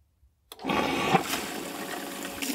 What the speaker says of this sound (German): Laut Anleitung sollen wir das System jetzt circa drei bis fünf Minuten einmal rückspülen.